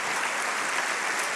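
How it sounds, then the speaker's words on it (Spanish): Church congregation applauding a pastor, a brief steady burst of many hands clapping together, even and fairly close with no voices on top. "Démosle un fuerte aplauso a este tremendo hombre de Dios."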